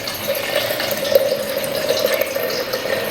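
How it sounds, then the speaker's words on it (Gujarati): Water runs steadily into a metal lota pot, a continuous close pouring and filling sound with a ringing tone throughout, no voices. "લોટામાં પાણી ભરી લેવાનું સાંજે"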